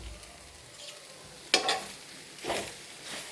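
Squid and onions roasting on a dosa griddle: a soft, continuous sizzle broken by a few louder scraping stirs near the middle and end, with no voices.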